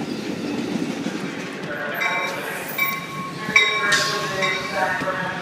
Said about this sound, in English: You like the big train?